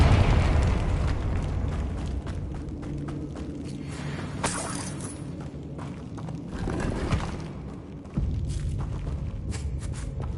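Confringo fire spell explosions in the Hogwarts Legacy video game, heavy booming blasts and crackling debris over a constant roaring battle din, with shattering bursts and a sharp cut near the end.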